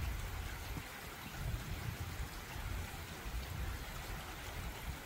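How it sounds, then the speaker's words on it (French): Rain easing off during a summer storm, a soft continuous patter and hiss with a faint low rumble underneath, fairly quiet and even, with no voices. "La pluie s'est un peu calmée."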